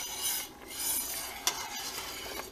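Soft scraping of a spoon stirring boiling strawberry peach jam made with freeze-dried strawberries, a few gentle strokes over quiet bubbling, faint and close, with no talk.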